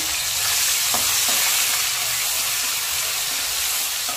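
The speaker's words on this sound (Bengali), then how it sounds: "আলু ভাজার তেলে অল্প করে পেঁয়াজ কুচি দিয়ে দিলাম" Chopped onions hit hot oil left over from frying potatoes, giving a steady, bright sizzle and hiss with a few soft clicks in the pan and no voices.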